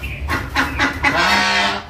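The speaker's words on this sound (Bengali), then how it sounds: "তারপরে হাঁসের ডাক" Ducks call nearby in loud, nasal honking quacks, three quick bursts followed by a longer drawn-out call, with no voices.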